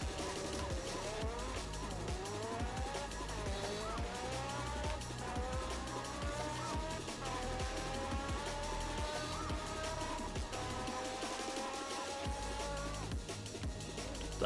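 An Alfa Romeo in the Roblox game launches hard, its engine revving through rising gear sweeps with tire squeal, loud and continuous for the whole stretch.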